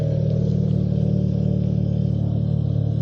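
An Audi engine idles steadily just after starting while warming up, a close, even low rumble with no revving and no talk.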